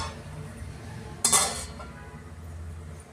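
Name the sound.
covering a pan with a plate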